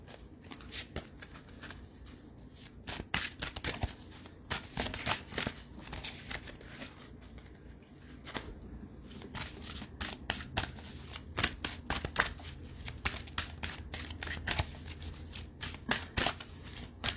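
Rapid papery riffling and flicking of oracle cards being shuffled, in irregular bursts that come and go, close up with no talking.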